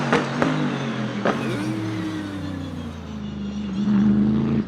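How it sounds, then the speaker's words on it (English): A Mercedes-AMG V8 car gives off a straight-cut gear whine, a sustained low tonal hum that wavers in pitch under the engine's steady drone, with a few sharp clicks near the start; close and fairly loud, no speech. "Why the straight cut whining like that?"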